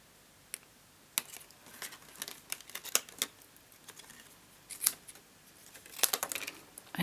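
Scissors snip through paper and card for reverse die-cutting in a series of crisp, close cuts with irregular gaps between them, the snips growing louder and more clustered toward the end, with no voices.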